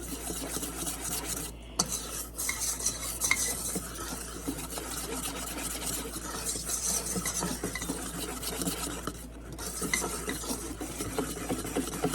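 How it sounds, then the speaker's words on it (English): Powdered sugar is whisked into a bowl of cookie icing, a continuous rapid scratchy whisking, moderately quiet and close, with two brief pauses, no voices. "Whisk in 2½ cups of the powdered sugar, which will thicken it up nicely."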